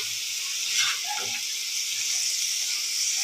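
Fish frying in a hot pan gives off a steady, bright sizzle, a continuous close hiss with occasional faint pops and crackles.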